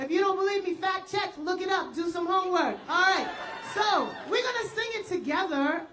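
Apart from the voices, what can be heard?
No everyday noises stand out.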